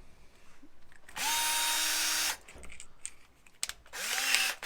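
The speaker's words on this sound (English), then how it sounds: "I've just popped a 2mm drill through all those centre punched holes" A power drill bores out spot welds on a Classic Mini Mk1 car body, two bursts of high whining drilling with motor spin-up and wind-down, separated by quieter handling clatter, close and fairly loud.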